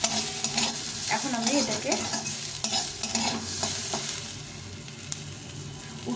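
Pointed gourd (potol) frying in a pan, with a steady oily sizzle and irregular scraping stir strokes close by, plus a brief bit of quiet talk.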